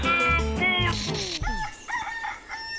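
A rooster crows loudly and close by, one long call that rises and then trails off into fainter clucking notes, with no talking.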